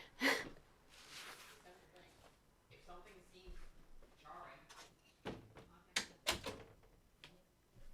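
A door closes with a couple of sharp knocks near the end, mixed in with ongoing casual conversation and small household rustles.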